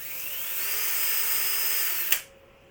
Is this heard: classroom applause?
no